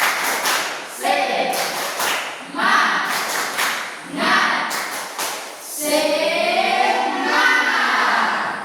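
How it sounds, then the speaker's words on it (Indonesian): A classroom of students performs a rhythmic spirit clap, bursts of synchronized hand claps in a patterned beat alternating with chanted group voices, ending in a longer sustained chant over clapping. "Tepuk semangat."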